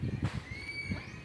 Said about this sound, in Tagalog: Tapos may kabayo din doon.